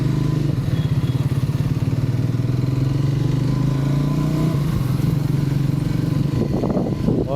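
A Triumph Speed 400 motorcycle ridden at steady speed, its engine droning loud and close with a pulsing note that dips and shifts as gears change, with wind noise and some clatter near the end.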